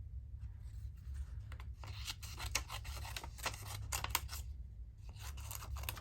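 Scissors snip through paper to cut out a butterfly shape, a quick series of close, crisp cuts with rustling of the paper between them, heard alone over a low background hum.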